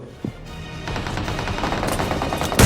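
A cooked grenade goes off in BGMI with a sharp crack and a rising rush of explosive noise that builds over a couple of seconds, ending in a loud burst, with no voice over it.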